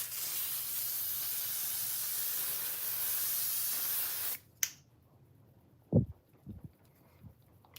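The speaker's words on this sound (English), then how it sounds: "And I'm going to spray it right on the face." L'Oreal Infallible setting mist sprayed onto a face: a steady, close hiss of fine spray runs unbroken for about four seconds, then stops abruptly, leaving a few soft handling thumps and clicks.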